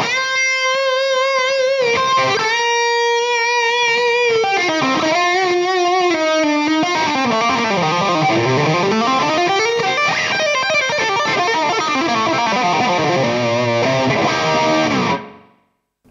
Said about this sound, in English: It's great for those kind of brown tone kind of sounds if you want to get some lead tones and some really crunchy chords.